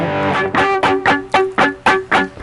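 Electric guitar strummed with the fretting hand lifted so the strings are muted, producing a steady series of about eight short, choppy distorted scratches in even rhythm, loud and close with no speech.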